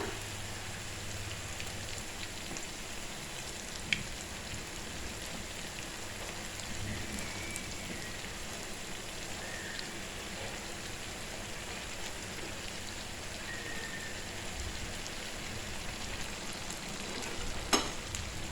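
Jackfruit unniyappam frying in hot oil in an appam pan, a continuous dense sizzle and crackle that holds steady throughout, fairly close, with no talk over it.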